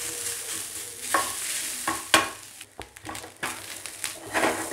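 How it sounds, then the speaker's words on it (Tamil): Grated coconut roasting in a pan for a black chickpea kadalai curry, with a steady dry sizzle broken by several scraping stirs of a spatula, close and fairly loud. "நல்லா தேங்காய் நல்லா வறுத்துக்கங்க"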